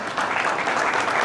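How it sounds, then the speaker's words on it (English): Sparse hand clapping from a small crowd at a fundraiser brunch, a steady patter of claps filling the whole moment with no voice on top. "We didn't get a lot of hand clapping on that."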